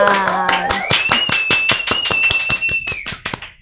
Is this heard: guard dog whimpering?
no